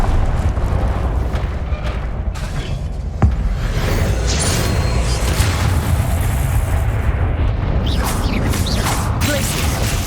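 Confringo fire spell explosions in Hogwarts Legacy gameplay, a loud, dense rumbling roar of blasts and battle effects that continues without a break, with one sharp crack near the middle.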